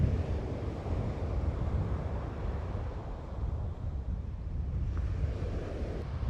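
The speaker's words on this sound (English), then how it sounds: "Look at those waves" Ocean waves and strong wind along the San Francisco shoreline near the bridge on a very windy day: a steady, loud wash of surf and gusting wind buffeting the microphone, with no voices.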